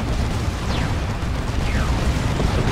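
A rocket run strike explodes in the Dawn of War 2 strategy game, a loud, dense, rumbling roar of blasts that fills the whole clip without pause.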